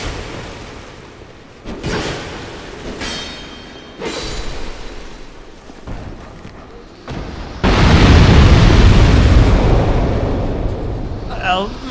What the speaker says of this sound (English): Well, my intention wasn't necessarily to get hit by that explosion